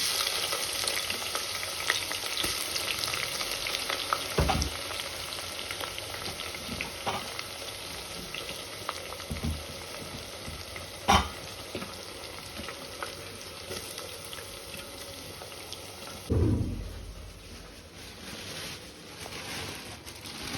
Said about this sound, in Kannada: ಈರುಳ್ಳಿ ಸ್ಲೈಸ್ ಮಾಡ್ಕೊಂಡಿದ್ದೀನಿ ಬಿರಿಯಾನಿಗೆ ಅಂತ, ಒಗ್ಗರಣೆಗೆ ಹಾಕ್ಬಿಡ್ತಾ ಇದ್ದೀನಿ.